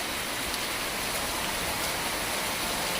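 Heavy rain pours steadily and loudly over Phaltan town, Maharashtra, a dense continuous hiss of drops drumming on surfaces without pause.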